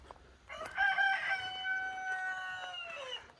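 A rooster crows once, a long drawn-out call that carries clearly from a short distance away against a quiet background.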